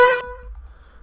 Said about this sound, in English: I'll actually start with the auto-tune. It makes it sound like this.